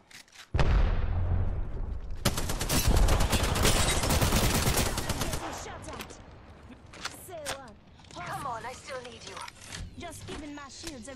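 Dense, loud bursts of rapid automatic gunfire fill a ranked Apex Legends match on Nintendo Switch, then the shooting drops to a quieter stretch of scattered game effects and voice-like sounds.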